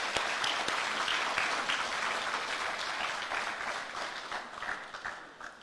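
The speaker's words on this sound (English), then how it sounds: "Can we give him another round of applause," Audience applause after a distinguished lecture on Caribbean education at a university, steady dense clapping from a large crowd throughout, tapering slightly toward the end.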